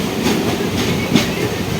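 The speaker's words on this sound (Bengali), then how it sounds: "ওই দিক দিয়ে কোনো একটা লোকাল ট্রেন ঢুকছে শিয়ালদা স্টেশনে।" A local train pulls into Sealdah station with a steady rumble, broken by a few rhythmic wheel clicks.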